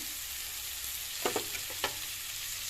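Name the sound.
soaked poha added to the frying pan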